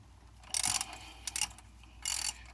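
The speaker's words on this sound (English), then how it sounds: "So I just inserting my 13 millimeter" A ratchet with a 13 mm socket works a pulley bolt on a 2004 Land Rover Discovery II V8, three short bursts of quiet, close ratcheting clicks separated by pauses.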